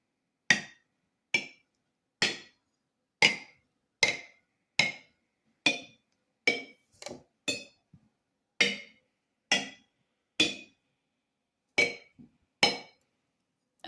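A spoon taps sealed metal canning jar lids one after another, about fifteen bright, ringing clinks at a steady pace with short pauses between, each decaying quickly, close and loud with no talking.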